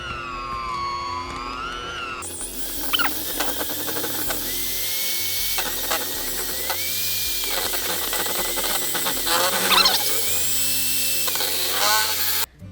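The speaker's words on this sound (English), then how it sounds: "We're gonna mix this. And we're gonna beat it until it's super smooth." An electric hand mixer beats cream cheese for cheesecake batter, a steady high whine that shifts in pitch as the beaters work the bowl, running continuously with brief changes in load.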